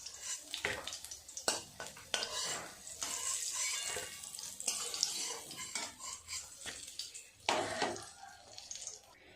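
Prawn fritters deep-frying in oil over low gas, a steady bubbling sizzle with occasional clinks and scrapes of a utensil against the pan, close and fairly loud throughout.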